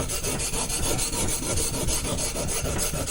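Steel blade drawn steadily across a Baryonyx American Mutt sharpening stone, a continuous coarse rasping scrape with faint rhythmic strokes, close and fairly loud with no talking.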